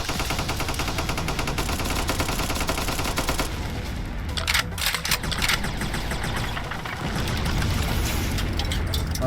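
Dense, continuous rapid firing from a plasma gun aimed at mechs in the game Cavalry Girls, loud and unbroken throughout with sharper crackling impacts midway, no talk.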